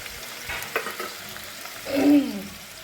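Soya chunks with soy sauce frying in a pan: a soft, low sizzle with a few stirring clicks and a brief scraping swell near the end, without speech.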